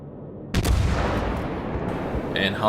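Secondary gun batteries firing from a warship in World of Warships, a sudden loud burst of cannon fire that rolls into a sustained rumbling barrage with further shots near the end.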